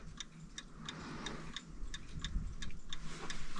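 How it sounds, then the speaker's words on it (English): A clock ticks steadily and evenly, crisp metallic ticks close up over a low background hum, with no voices. "right now it seems to be ticking"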